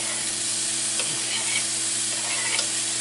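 Pre-cooked ham browning beside other food in a big pan, a loud dense continuous sizzle with faint scrapes of stirring, steady throughout without talk.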